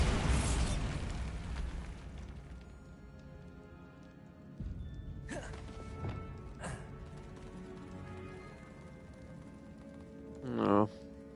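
Bombarda blasting spell in the game Hogwarts Legacy, played on PS5: a few sharp bursts and booms over a continuous game score, with the loudest short blast near the end and spoken voice around them.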